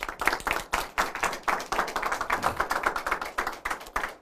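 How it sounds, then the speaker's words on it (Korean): An audience at a religious lecture claps in sharp, rapid, rhythmic bursts, close and clear, each beat distinct as the hands strike together in a steady patter. "박수 한번 올려주시기 바랍니다"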